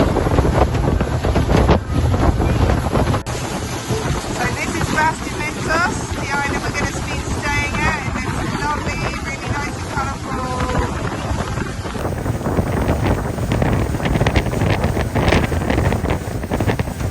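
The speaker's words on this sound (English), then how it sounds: "now we're getting back on the next boat to head to our island" A small boat heads across open water toward Bastimentos island in Panama, with loud wind buffeting the microphone over a steady engine-and-water roar, and people talking throughout.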